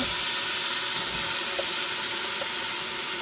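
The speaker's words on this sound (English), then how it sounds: "I'm going to go ahead and just scrape these onions on in here into our butter." Chopped onions sizzle in half a stick of melted butter for a soup, making a steady, even hiss throughout with a few faint pops and no talking.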